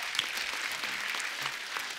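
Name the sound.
applause for the singers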